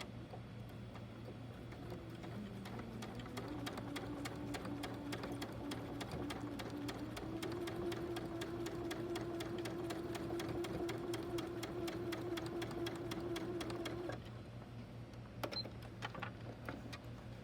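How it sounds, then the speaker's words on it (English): A sewing machine runs continuously along the bias edges of a quilt block, a close, steady whirring hum with a constant rhythmic ticking, then stops near the end, leaving a few faint clicks. "line up these bias edges with the edge of our machine, with the edge of our foot. And now we're gonna sew."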